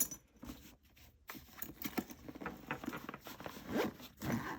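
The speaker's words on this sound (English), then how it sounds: "So I'm going to just zip that up so you can see what we have going on." A JuJuBe Be Supplied breast pump bag being zipped shut, its zipper giving a run of short, close rasping pulls with faint rustling and jangling between strokes, no talk over it.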